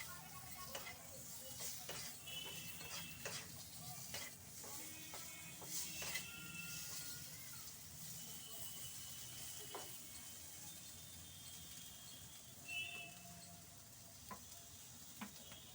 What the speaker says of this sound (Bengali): আলুটা একটু হলুদ আর নুন দিয়ে ভেজে নিচ্ছি।